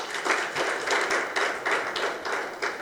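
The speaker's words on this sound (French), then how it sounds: "et je vous prie de les applaudir." A conference audience applauds the presenters at a celebration of a priest's twenty years of writing, with dense, steady clapping that holds throughout in rhythmic waves.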